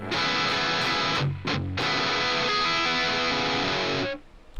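Electric guitar played through the second channel of an STL Tonehub amp simulator plugin, a dense, saturated tone sustained across the whole stretch with one brief drop in the middle, then cutting off near the end. No talking over it.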